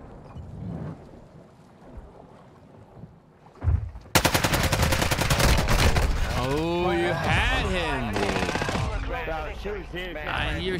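Sustained rapid automatic gunfire in a video game fight, a dense continuous rattle that starts abruptly and keeps going loud and close, with voices talking over it.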